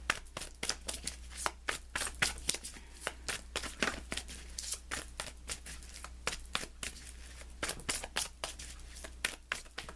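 Tarot cards are shuffled by hand in rapid, repeated riffling bursts, close and crisp over a low steady hum, with no talking.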